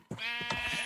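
A llama in a video game lets out a bright, wavering bleat-like call that is close and loud and carries through the whole short moment with no talk over it.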